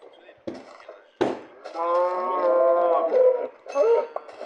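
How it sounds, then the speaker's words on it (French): A cow mooing in the Minecraft video game, one drawn-out lowing call with wavering pitch, preceded by a couple of short knocks and followed by a brief second grunt, close and clear. "le bruit qui fait la vache"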